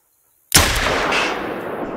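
A single sharp, loud shot from a .243 pistol in a hunting video game set in mountain country, fired at a distant target after dead silence, followed by a long rolling echo that slowly fades.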